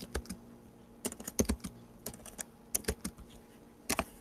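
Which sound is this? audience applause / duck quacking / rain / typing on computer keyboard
typing on computer keyboard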